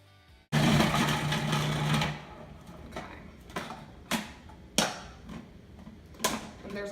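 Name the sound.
food processor with shredding blade shredding rotisserie chicken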